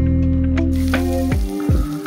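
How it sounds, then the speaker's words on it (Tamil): Onion sizzling in oil in a kadai, steady close frying hiss with a few stirring scrapes toward the end, for a Tamil fish curry (meen kuzhambu). "போட்டுட்டு நல்லா வதக்குங்க. வெங்காயம் நல்லா வதங்கணும்."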